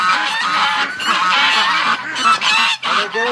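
Flock of wintering geese honking loudly at about 4:20 in the morning, a dense, continuous chorus of overlapping nasal calls passing close overhead.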